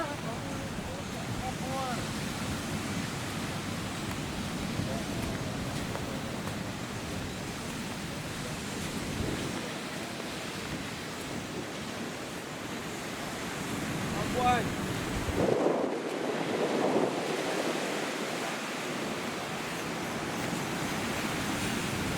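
Sea surf rolls onto a white-sand beach in Barbados, a broad, constant wash of waves mixed with heavy wind buffeting the microphone, steady throughout with a brief lull and surge near the end.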